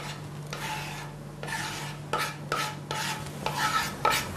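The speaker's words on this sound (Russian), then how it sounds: "Сейчас мы это обжариваем все. Всё обжариваем. В масле растительном." Food fries in vegetable oil in a preheated pan in a home kitchen, a steady sizzle broken by repeated scraping strokes as it is stirred, loud and close with no talking.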